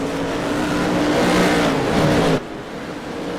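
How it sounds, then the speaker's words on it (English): A Ford Mustang race car from a racing video game roars loudly and steadily under hard throttle, then the sound drops abruptly near the end, with no talking. "The Mustang, by the way, is obnoxiously loud."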